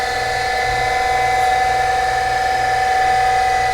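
A surface grinder runs steadily in a home machine shop, used while grinding a precision holder for a diamond dressing nib; a constant motor hum with a bright whine holds at even loudness throughout, with no talk.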